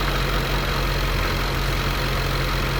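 A 2015 Jaguar F-Type supercharged engine with 72k miles idles after a hydrolock repair, a dense, even, loud rumble held close with no talking.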